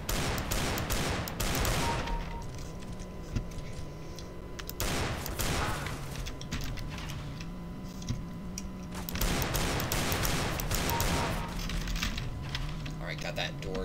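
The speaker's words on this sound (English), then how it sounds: "Just kind of Deagle spam. More Deagle spam. A million misses with Deagle spam." Desert Eagle pistol fired again and again in CS:GO, loud rapid gunshot cracks in bursts with brief gaps, over game background noise.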